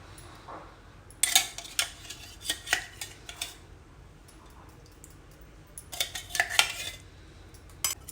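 Thick curd whisked with a spoon in a bowl for Telangana buttermilk soup, giving two bursts of quick rhythmic metallic scraping and clinking, close and fairly loud, separated by a quieter pause.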